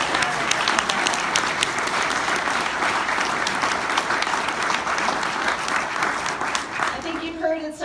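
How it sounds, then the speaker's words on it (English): Town hall audience at Humboldt State University gives a sustained round of applause for Great Redwood Trail champions, dense clapping that stays even for several seconds before a voice begins speaking as it dies down. "really give one more round of applause to our two trail champions."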